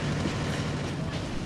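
Train rumbling in the video game TimeSplitters: Future Perfect, a steady loud rolling rail noise filling the whole short moment.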